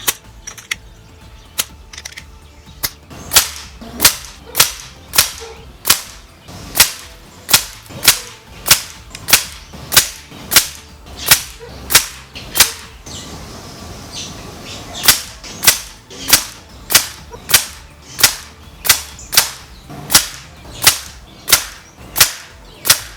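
Air rifle fires .22 caliber 18-grain pellets in a long series of sharp, evenly spaced cracks, about one every second, with a brief pause midway and nothing else audible between shots.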